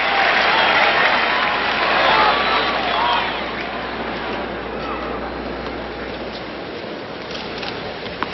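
A large US Open tennis crowd in New York applauds Jimmy Connors, a loud roaring wash of clapping and cheering that eases to steady applause, with a commentator's voice over it.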